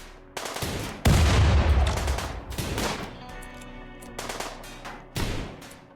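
Gunfire in RimWorld, loud bursts of rapid shots and fusillades in several clusters with brief gaps between volleys.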